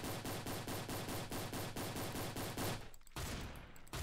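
Sustained rapid automatic gunfire from a weapon in the Island Royale video game, a steady loud stream of shots that breaks off briefly near the end and then resumes.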